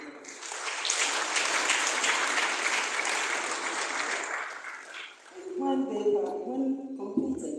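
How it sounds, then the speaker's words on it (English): A crowd at a government event on decentralisation applauds steadily for about five seconds, a broad wash of clapping that fades out as a tuned melody starts playing. "I think they also deserve an applause."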